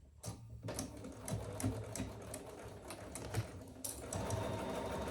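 A sewing machine runs steadily, stitching along the bottom seam of a fabric travel jewelry case, with a quiet, rapid mechanical whir that pauses briefly and then resumes.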